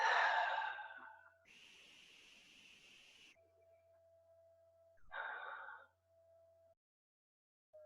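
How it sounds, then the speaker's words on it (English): A deep breath drawn during a guided meditation at an Easter church gathering, a long airy inhale and a softer exhale heard close and alone, with a faint steady tone lingering between breaths. "So take a deep breath."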